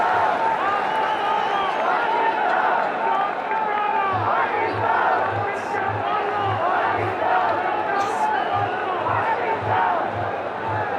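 Dense roaring crowd at a packed PSL cricket stadium for Karachi Kings vs Peshawar Zalmi, continuous cheering and chanting with a rhythmic drum-like low thump and babble of many voices throughout.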